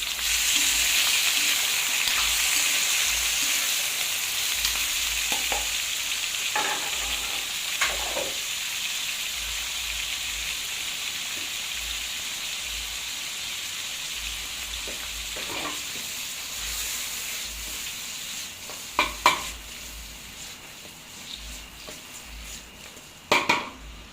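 Pork frying in a pan for adobo, a steady loud sizzle with occasional scrapes and clinks of stirring, alone without talk.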